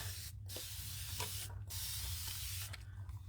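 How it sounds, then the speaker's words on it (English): Several short hissing bursts of a spray bottle onto paste during art journaling, spaced apart, over a steady low hum in the background. "I'm just going to spray it."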